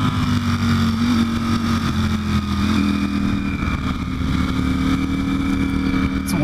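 A Ducati Panigale V4 Speciale motorcycle rolls along a canyon road at low speed, its engine droning steadily and close with the throttle held gently, wind rushing underneath the whole time.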